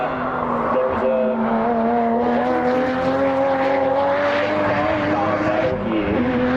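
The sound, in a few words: race cars at World Time Attack Challenge 2023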